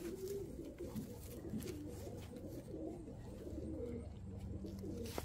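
Domestic pigeons in a home loft coo in low, repeated throaty phrases that overlap and keep going throughout. They sound close, with a steady background hiss.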